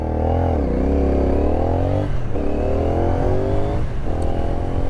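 A CFMOTO 450NK motorcycle engine revs and pulls away, rising through gears with loud, close, continuous exhaust drone and brief dips at shifts.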